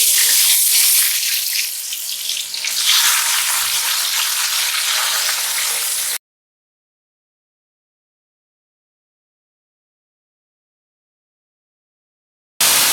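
Sliced bitter gourd (karela) dropped into hot oil in a pan on a stove, a loud steady frying sizzle for about six seconds, then a long silence before the sizzle returns briefly at the end.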